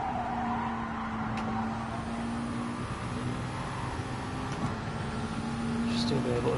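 A Ferrari race car in Gran Turismo 7 drones with a steady, sustained engine tone at moderate loudness, rising slightly toward the end, with a person talking over it.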